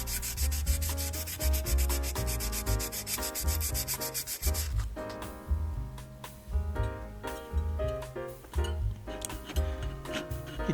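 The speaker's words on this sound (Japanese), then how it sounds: "このようにかまぼこ板にペーパーヤスリを貼り付けたものを使っていますが" Sandpaper glued to a wooden kamaboko board rubs across the louvers of an old Katsumi KiHa 82 model train, giving quick, rhythmic rasping strokes close up over steady background music.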